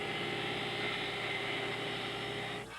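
A car engine runs at a steady idle-like hum in a motor oil commercial, a constant mid-low drone with a bright overtone that fades out at the very end.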